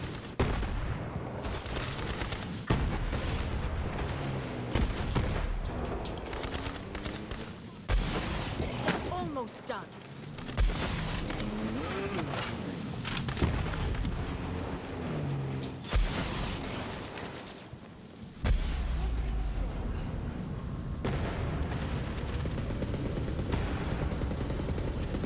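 Gunfire in Borderlands 3, repeated bursts and single shots popping over a dense, busy game soundscape for most of the stretch, with loud rattling volleys and impacts, and speech mixed in.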